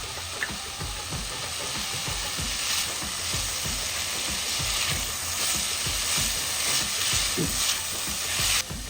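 Chopped carrots, fresh green peas and cabbage toss and fry over high heat, making a continuous close crackling sizzle with rhythmic stirring scrapes throughout and no talking.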